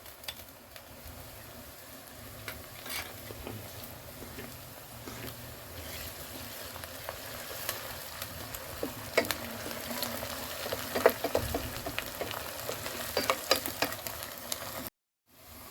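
Onions and green chillies sizzle steadily in a pan, a soft continuous frying hiss with occasional stirring clicks, close and moderately quiet, with no one talking.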